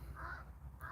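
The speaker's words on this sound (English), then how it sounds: "I'm pretty sure those crows start screaming more when I start playing my drum" Crows caw outdoors, two harsh calls at a distance, the first drawn out and the second starting just as the sound ends, over a low steady background hum.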